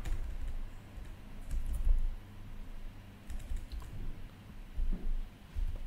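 Steady typing on a computer keyboard while writing Python code, soft clustered keystrokes in short bursts, quiet and close.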